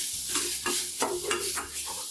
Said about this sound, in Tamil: தேங்காயில் அந்த ஈரப்பதம் போகிற அளவுக்கு கொஞ்சம் வறுத்து எடுத்துக்கோங்க.